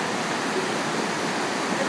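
Rushing river rapids in Yosemite, a loud, steady broadband roar of churning white water close by, continuous and without pauses.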